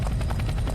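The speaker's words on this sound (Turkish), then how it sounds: "Helikopter görüyorum." A helicopter in the Roblox video game, in a prison-escape scene, makes a close, steady rotor chop with rapid rhythmic blade pulses over a deep droning hum.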